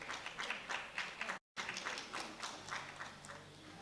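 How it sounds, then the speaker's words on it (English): Spotters at a powerlifting platform at a world sub-junior and junior championship clap and cheer for a lifter, producing faint, steady applause with rhythmic bursts and a brief cut partway through. "The spotters cheering him on."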